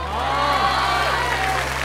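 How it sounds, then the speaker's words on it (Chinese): Warm applause rises from a studio audience at a comedy variety show finale, with steady clapping and crowd murmur over faint tonal music in the background. "有的大家都给予热烈的掌声鼓励一下"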